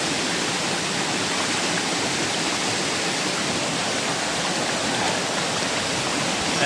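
A waterfall in a deep Japanese forest roars as a dense, steady wash of rushing water, loud and unbroken from start to finish with no voices.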